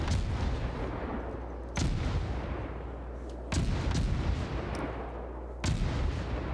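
Naval gunfire aimed at the Lexington in a video game, three heavy booming shots spaced a couple of seconds apart over a low constant rumble, loud and close with no voices.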